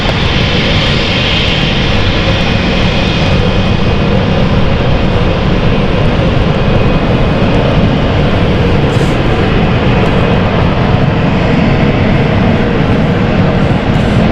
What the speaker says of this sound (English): So stand 3 is exactly the position of where this aircraft is.